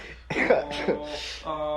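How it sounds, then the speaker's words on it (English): A person coughs twice in quick succession, close and fairly loud, then a brief voiced sound follows. "Sorry, guys, I still got this cough."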